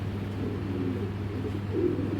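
A male racing pigeon gives soft, low cooing over a steady background hum, close and continuous without speech.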